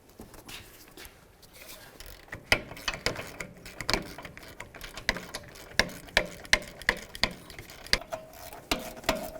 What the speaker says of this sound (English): Let's start by removing our caliper bracket bolts.